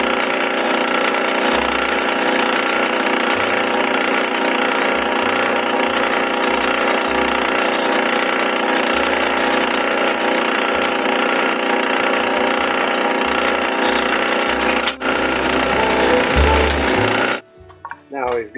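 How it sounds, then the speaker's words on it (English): Power drill boring and counterboring holes in wood for a wooden end table, a continuous grinding, rasping whir with shifting low rumbles that cuts off abruptly near the end, followed by a few brief knocks. "we'll drill a small hole first, then we'll counterbore it"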